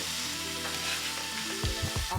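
Spinach with pepper and onion powder sizzles steadily in a hot pan as it wilts, a close, continuous frying hiss with a few soft stirring knocks near the end.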